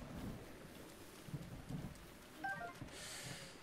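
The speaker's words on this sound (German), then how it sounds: "Ah, ist das Gewitter mal vorbei?" In Zelda: Breath of the Wild, a thunderstorm carries steady soft rain, low rumbles of thunder and some wind, quiet and ambient, with a few brief game tones rising above it.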